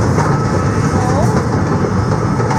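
Lakeside Scenic Railway roller coaster train rolling along its track, a steady loud rumble and rattle of wheels and cars filling the whole stretch with no clear breaks.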